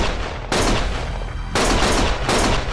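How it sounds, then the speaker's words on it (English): Bursts of rapid gunfire from Lost Judgment, loud sustained volleys in three separate waves with brief gaps between them, no talking heard. "Stop shooting!"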